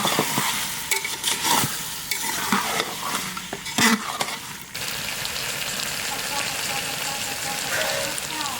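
Mutton masala is stirred and fried in a pan with oil, starting with a few scraping clatters of the spoon and then settling into a steady crackling sizzle.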